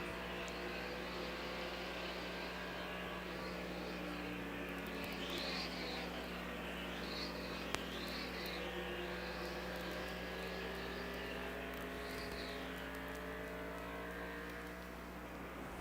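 A 1988 race car at Phoenix International Raceway, Dale Jarrett's, easing off into turn 3 in a 312-lap 500-kilometre race: steady engine drone with a low hum throughout and wavering pitch sweeps, loud and continuous.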